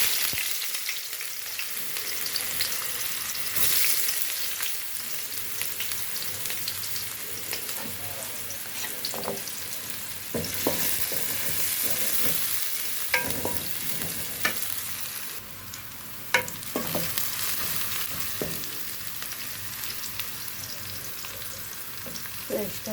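Mustard seeds fry in oil in a cooking pot with a continuous crackling sizzle. Scattered stirring knocks and scrapes run through it for over twenty seconds.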